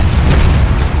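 A large bomb detonates in the destruction game Teardown, a loud, deep, sustained rumbling boom filling the entire moment with no speech.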